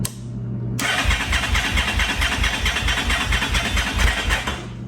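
An abandoned, long-unused motorcycle engine is cranked by its starter after the carburetor bowls have been primed. A loud, rapid, rhythmic churning runs for several seconds without catching, close and alone.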